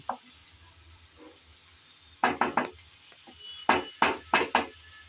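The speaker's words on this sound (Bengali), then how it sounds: "আমি কিছুক্ষণ নেড়েচেড়ে ভালোভাবে কচুরলতি কষিয়ে নিলাম" Taro stolons are stirred and sautéed in a pan for a kasundi mustard dish, with a soft sizzle underneath and two clusters of quick, rhythmic scraping strokes from a spatula, close and crisp.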